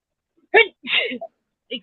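One sharp, close sneeze bursts out, followed by a short voiced sound and a brief faint tail, in an otherwise quiet room.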